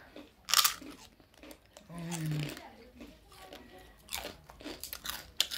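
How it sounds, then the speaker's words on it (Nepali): People eat a meal with tea at a village stop in Nepal, crunching and chewing close up in bursts while voices talk over it. "यहाँ बहिनी एकदम खाँदैछ।"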